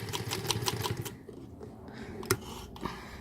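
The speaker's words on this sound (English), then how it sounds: "now I'm just sewing right beside that" A sewing machine stitches fabric in a fast, even rhythmic clatter for about a second, then stops, followed by a few faint clicks and handling sounds.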